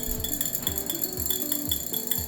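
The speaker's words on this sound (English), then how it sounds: "Now go ahead and give that a good mix." A utensil stirs a mixture containing mica powder in a bowl with steady rhythmic scraping strokes, repeating about every half second, close and clear.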